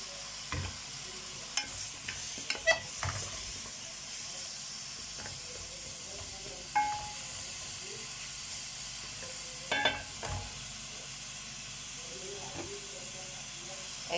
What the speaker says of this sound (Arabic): هبدا اشوحها لحد ما اخليها تتحمر خالص معايا في التشويحه كده